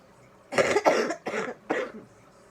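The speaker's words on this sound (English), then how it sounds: "I still have a cough from the flu" A few harsh, bursty coughs from a person with a lingering flu cough, close up, three or four in quick succession, then quiet.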